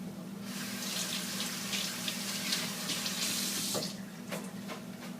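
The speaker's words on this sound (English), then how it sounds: "Let me rinse off my hand now." Hands being rinsed under a running kitchen tap, a steady close splashing stream into the sink with brief interruptions as the hands move through the water.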